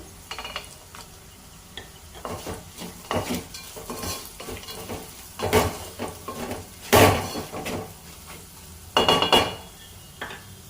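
Fried peanuts being stirred into an ivy gourd fry in a pan: repeated scraping and clinking of a spoon against the pan under a soft, steady sizzle, with several louder stirring strokes standing out.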